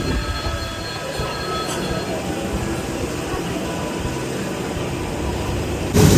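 A Roha–Diva train departing rumbles steadily with a continuous rolling roar and faint high wheel squeal, heard from inside, growing louder at the very end.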